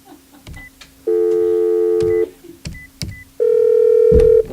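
A telephone being dialed to call someone back: short tone beeps and clicks between two longer steady electronic tones of about a second each, loud and close with no talk.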